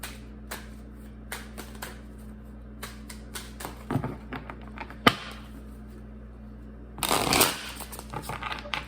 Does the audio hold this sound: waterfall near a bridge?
no